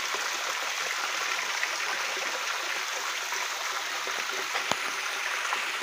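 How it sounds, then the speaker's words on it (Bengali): Fresh water pours steadily into an indoor fish tank during a water change, a continuous hissing, trickling stream with a brief tap near the end, fairly close and alone without talk. "একদম নতুন ফ্রেশ পানি দেওয়া হচ্ছে"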